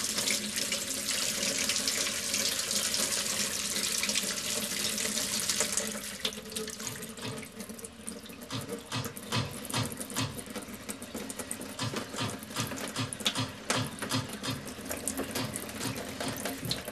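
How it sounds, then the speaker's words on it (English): A cold water tap runs and splashes steadily into a sink, then turns into sputtering, knocking bursts as air and water push through the pipe. "press down on the cold water tap as firmly as possible"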